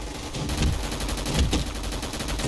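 Rapid bursts of automatic gunfire in a Roblox game crackle in quick succession, loud and close, with sharp repeated shots throughout the short stretch.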